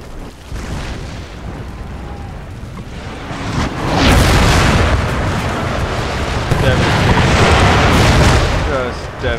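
Cannon and massed musket volleys from a Mughal campaign battle in Empire: Total War (Darthmod), a dense, loud, continuous roar of overlapping booms and crackling shots that swells even louder midway.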